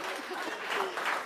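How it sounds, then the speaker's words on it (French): Audience applause after a joke at a talk-show style appearance, a steady wash of clapping across the short stretch with faint voices mixed in. "je crois qu'on peut applaudir ça"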